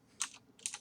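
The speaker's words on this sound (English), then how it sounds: "I'm typing real loud again." Computer keyboard typing during a gaming podcast comes as two quick, close bursts of sharp clicking keystrokes, loud and near, with brief quiet between them and no talking.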